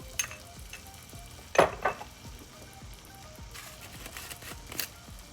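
Ground beef sizzles in a pan for a lasagna, a faint steady frying hiss with a few louder clatters and scrapes of stirring near the start and end.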